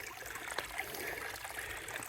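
Steady broadband rush and trickle of a small stream beside the Appalachian Trail, close by and continuous, with no talking.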